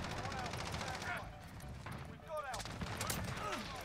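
Rapid bursts of video game gunfire rattle continuously in a multiplayer shooter, dense and steady throughout, while a player's voice is heard talking over the action.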